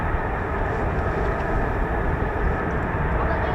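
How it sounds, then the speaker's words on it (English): A Lockheed F-35A fighter jet of the 495th Fighter Squadron flying at RAF Lakenheath, heard as a loud, steady, broadband engine roar that holds constant throughout. "The wonderful F-35A"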